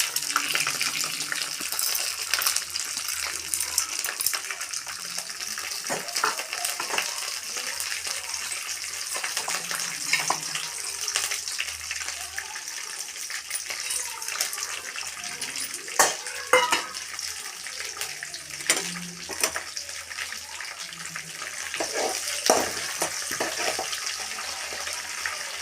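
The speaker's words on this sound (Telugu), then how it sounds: "పోపు వేగిపోయింది." Tempering spices sizzling in hot oil in a pan, a steady bright crackle and hiss with scattered pops and stirring clinks, fairly close, no talking.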